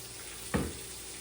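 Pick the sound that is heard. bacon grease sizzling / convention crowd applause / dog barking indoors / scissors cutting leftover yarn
bacon grease sizzling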